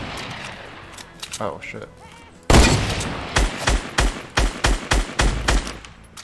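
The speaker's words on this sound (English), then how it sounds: "can't see the guy that's shooting." Rapid bursts of gunfire in Fortnite crack out in a quick rhythmic string after a sudden loud shot, with a few softer shots earlier and a player exclaiming briefly.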